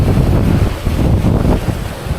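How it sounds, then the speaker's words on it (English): Steady low roar of wind buffeting the microphone high up in a ravine on a day hike, continuous and loud, with no voices. "I don't know if the microphone is picking up the wind, but it is still windy up here"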